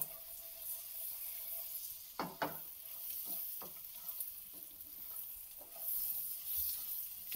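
Spices with turmeric and salt roasting in a pan for Dhaba-style paneer butter masala, a soft steady sizzle with a few sharp stirring scrapes and clicks, faint and close.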